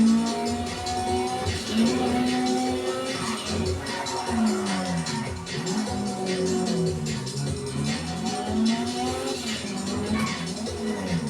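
A Corvette driving in GTA 5, its engine rising and falling in pitch as it revs and shifts, steady and fairly loud throughout, with faint game sounds around it.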